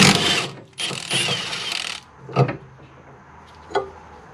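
A ratcheting wrench works a car tie rod end nut in a close, loud run of rapid clicks, followed by a couple of separate metallic clanks.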